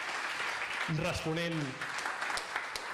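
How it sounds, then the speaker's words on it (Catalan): Audience applause at a gathering on trade unionism in the Catalan Countries, a steady broadband patter throughout, with a single voice speaking briefly over it midway. "demanem primer un aplaudiment per tots els que han estat"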